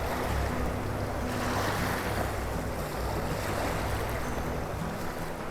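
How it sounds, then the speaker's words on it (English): Tidal current rushing through Deception Pass, a steady broad roar of churning water with wind buffeting the microphone, continuous and fairly loud with no voices. "that water's just rushing in through the pass"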